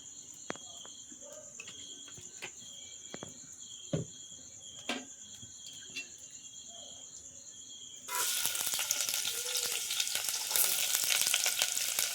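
Chopped onion tempering in hot oil for a Malvani-style Konkan village dish: steady insect chirping for several seconds, then a sudden loud, continuous sizzle as the onion hits the oil, crackling on without letup.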